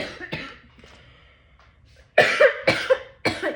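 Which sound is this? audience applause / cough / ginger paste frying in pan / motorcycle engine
cough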